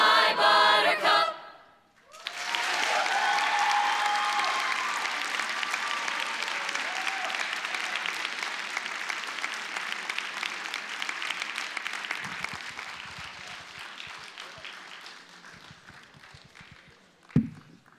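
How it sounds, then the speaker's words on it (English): Audience applauding an a cappella group at a high school poetry slam, a broad sustained wash of clapping that rises sharply after a brief pause, holds steady, then tapers off near the end. "Round of applause for FHS's a cappella group, Tonal Eclipse."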